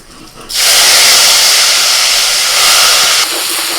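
Spice paste hits hot mustard oil in a wok with a sudden loud, steady sizzle that holds for about three seconds, then eases slightly.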